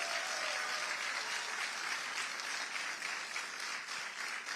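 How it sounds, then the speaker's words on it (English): An audience at a political event applauds for Congressman Richie Torres with steady, continuous clapping heard from a distance, fairly quiet and even throughout the few seconds. "Let's give him another round of applause"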